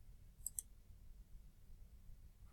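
Two quick, crisp computer mouse clicks in close succession, faint and close, over a low quiet background hum.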